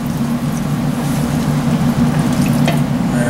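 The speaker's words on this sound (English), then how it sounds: "we're going to add the cooled stock, the reduced stock, a little bit at a time here" Reduced, cooled stock added a little at a time to a hot pan for chuck roast sauce, giving a steady, loud sizzle with faint bubbling throughout and no voices.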